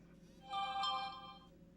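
A phone ringtone chimes once for about a second, a short melodic tone standing out over a quiet room background.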